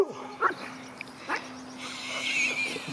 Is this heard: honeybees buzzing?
no